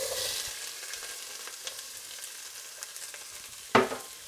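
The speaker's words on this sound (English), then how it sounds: "So we're just gonna let the onion caramelize a little bit." Onion fries in a pan for a lentil and bulgur chili, a soft steady sizzle with a few light stirring taps and one sharp clack near the end, close, no talk.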